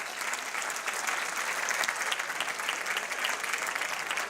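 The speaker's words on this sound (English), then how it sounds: "how about a great round of applause for the Salisbury University catering and dining team?" A crowd at a United Way campaign kick-off breakfast applauds, a steady, even wash of many hands clapping that holds for several seconds at moderate distance.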